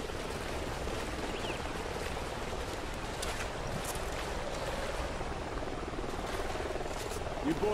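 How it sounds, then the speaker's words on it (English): A helicopter in the video game Call of Duty Ghosts drones as a constant rotor wash under a rushing, noisy mix, steady throughout with voices talking over it. "Sounds like a chopper's up ahead of us."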